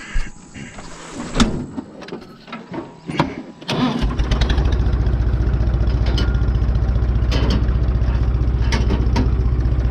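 Small John Deere tractor engine cranking and catching after a few knocks and rattles, then settling into a steady, loud, close-up idle with an even chugging rhythm.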